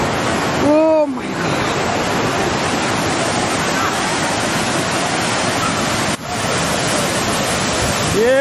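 Rushing flood water of a river in Nepal sweeping through a village, a loud, steady, broadband roar with brief voices or shouts near the start and the end.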